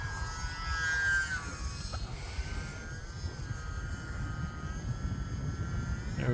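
A small UMX Turbo Timber RC plane buzzes overhead on a windy day, a thin electric whine drifting in pitch and fading at middle distance over steady wind rumble.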